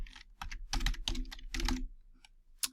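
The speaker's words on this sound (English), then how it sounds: "I'll type in youtube.com there." Typing on a computer keyboard, close and clear: a quick run of clustered key clicks with short pauses, ending in a single sharp keystroke, no talk.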